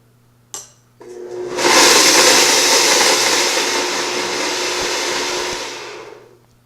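A blender whirs loudly as it blends chocolate, starting after a click and a short pause into a steady, close, high-pitched roar that holds for several seconds before easing slightly near the end.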